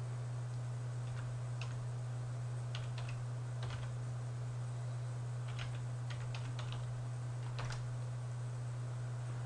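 Soft keystrokes on a computer keyboard as a website address is entered, sparse clicks arriving in small irregular clusters over a steady low electrical hum, faint and close with no talking.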